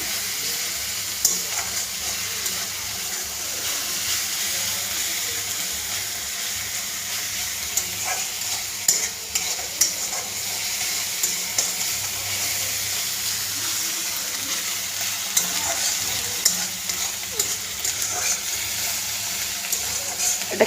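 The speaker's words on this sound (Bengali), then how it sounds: "হলুদ দিলাম, এখন ভাজবো ভালো করে।" Puti fish curry with turmeric fries in oil in a pan, a faint, continuous hiss and sizzle with occasional soft clinks and bumps throughout.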